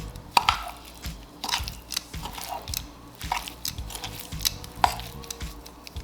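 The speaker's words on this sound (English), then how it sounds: "Now we're going to stir everything together." Seasonings of pepper and onion powder are stirred together in a bowl, giving close, irregular scraping and knocking clicks of a utensil against the bowl with short gaps between strokes.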